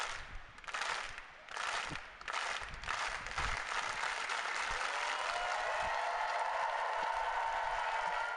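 A tennis crowd at a college all-American championship claps in bursts after match point, then settles into sustained applause, heard from a distance and fairly faint.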